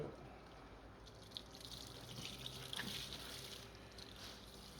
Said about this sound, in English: So we're just going to rinse, just a little light rinse, get most of these suds out